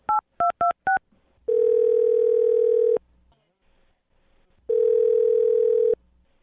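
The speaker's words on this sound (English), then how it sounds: "Curtis, I'm going to dial the phone number right now and see if we can get her on the phone, okay" Four quick touch-tone beeps, then two long ringback tones separated by a pause, loud and close as a phone call is placed.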